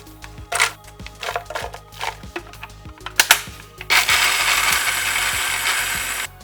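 Mixer grinder grinding roasted bhakri pieces for churma ladoo: a few sharp mechanical clicks and clatters come first, then the motor starts with a loud, steady whirring roar that carries on to the end.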